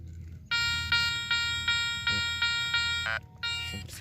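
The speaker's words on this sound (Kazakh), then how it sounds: "Мінекей достар, кезекті сигнал бізде." A Garrett Ace 200i metal detector gives a repeated electronic tone signal, a series of clear buzzing beeps in quick succession, loud and close against a quiet background, ending with a short varied tone.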